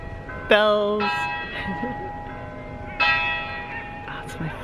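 Church bells ring out in a few separate strikes on the island of Vis, Croatia, each tone lingering and slowly fading, with faint background murmur.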